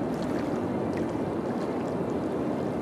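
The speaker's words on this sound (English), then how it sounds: "we're just gonna dump the sewage in the water" Sewage pouring into water in the city-building game Cities: Skylines gives a steady, low rushing gurgle of flowing water, continuous and fairly soft, with no talk over it.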